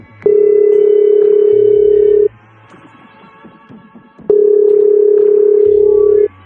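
Answering machine message tone in the video game Gorebox, two loud steady electronic beeps of about two seconds each, separated by a short quiet gap with faint sounds.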